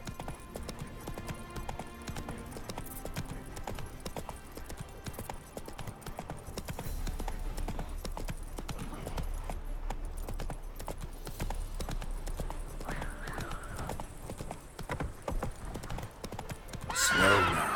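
Horse hooves clip-clop steadily while the horse neighs and whinnies in The Witcher 3, a fantasy video game, with a game character briefly talking over the continuous riding sounds.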